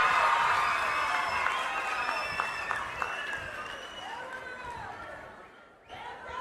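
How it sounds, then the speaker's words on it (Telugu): Rally crowd at an Andhra Pradesh event launching free bus travel for women, clapping and cheering loudly and steadily throughout, with whoops rising above the applause and a brief dip before it swells again near the end. "ఊరంతా అయినపేట గట్టిగా చప్పట్లు కొట్టి హర్షాన్ని వ్యక్తం చేయండి"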